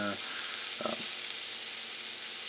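Ground beef mixed with breadcrumbs fries in a pan with a steady close sizzle, while a short bit of voice sounds near the start.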